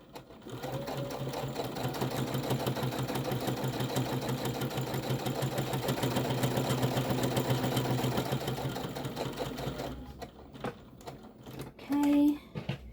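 Sewing machine running steadily and close while back stitching a quarter-inch seam on a roll-up crayon carrier, a fast continuous mechanical whir that stops near the end, followed by small handling clicks.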